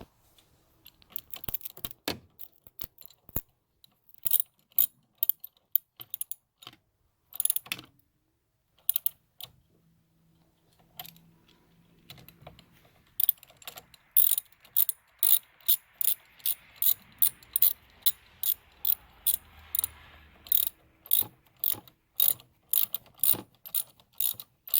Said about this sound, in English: Get your 10mm ratchet.